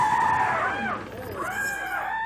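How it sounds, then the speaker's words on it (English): A peacock (Pavo cristatus) gives loud, wailing cries as a radio drama sound effect, with two long rising-and-falling calls following one another over a faint background. "That's the cry of the pavo cristatus."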